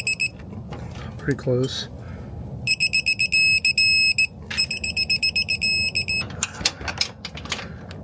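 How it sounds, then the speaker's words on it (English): Digital torque wrench set to 99 foot-pounds beeping in rapid repeated bursts as lug nuts on a Jeep Gladiator are tightened, with someone speaking briefly over the beeps. "we got our digital torque wrench out for this one. I'm gonna do 99 foot-pounds on these."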